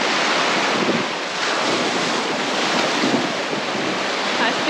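Rough ocean surf washes in and out along a sandy beach where sand fleas are being dug for bait, a steady loud roar of breaking water mixed with wind buffeting the microphone.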